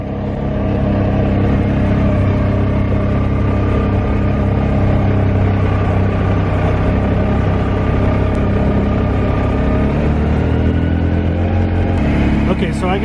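Yamaha YXZ1000R side-by-side engine running on its own without throttle, a loud, steady mechanical drone that fills the whole stretch with little change.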